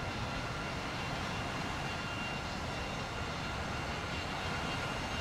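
Constant whooshing drone of an A-10's twin turbofan engines in a flight combat video game, a dense and even roar with a faint high whine, sustained throughout with no one talking.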